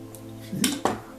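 Scissors snip thread or material at a fly-tying vise while a nymph is being tied: two brief, crisp metallic clicks close together, near and clear, with no talk.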